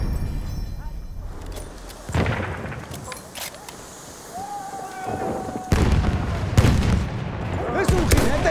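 Battlefield 1 combat: bursts of heavy machine gun fire and booming blasts crack in and out over a constant battle din, with game voices shouting in Spanish.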